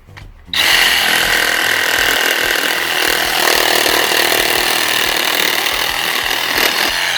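A Milwaukee Hackzall 2420-20 compact reciprocating saw cuts through PVC pipe, starting abruptly and then running as a loud, steady buzzing whine for about seven seconds, close up with no talking.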